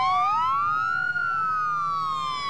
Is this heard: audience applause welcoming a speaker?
no